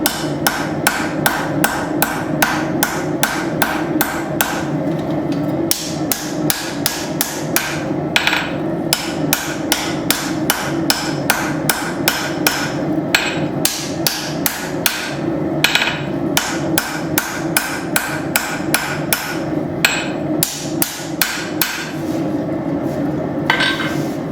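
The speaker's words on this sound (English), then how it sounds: "Got my rounding hammer now." A rounding hammer strikes hot steel on an anvil while forging a knife, a steady, rhythmic series of sharp ringing blows, loud and close, with brief pauses between runs.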